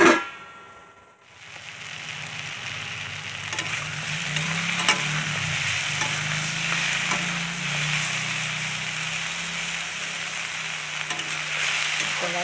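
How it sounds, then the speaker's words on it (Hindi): Coriander fries in a pan while being stirred, a steady close sizzle with occasional spatula scrapes and light clinks, following a brief sharp sound and a short lull at the start. "इसी तरह से चलाते रहिए धनिया को, बीच बीच में उसको ढक ढक कर"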